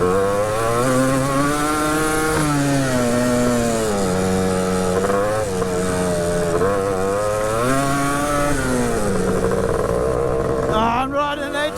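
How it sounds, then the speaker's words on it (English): A three-wheeled ATC's engine buzzes loudly and continuously, its revs rising and falling as it rides across dirt. "I'm riding an ATC!"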